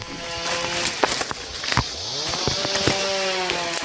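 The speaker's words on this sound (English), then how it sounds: "were alerted by the sounds of chainsaws in action" Chainsaws run in illegal logging of wood near the Belize–Guatemala border, a steady buzzing engine drone with rising and falling pitch sweeps as the saws rev and cut, fairly loud and continuous, no voices.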